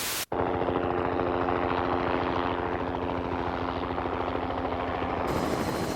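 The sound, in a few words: helicopter rotors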